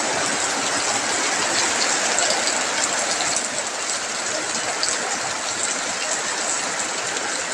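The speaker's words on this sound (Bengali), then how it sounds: "এই হলো বৃষ্টির অবস্থা" Heavy rain pouring into a house courtyard, a dense continuous hiss of falling water that stays loud and even throughout.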